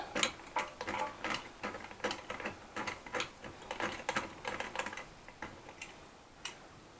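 A rivnut gun is unscrewed after setting a rivnut during a DIY storage drawer build for a Land Rover Discovery 2, giving a quiet run of close, irregular ratcheting clicks that thin out toward the end.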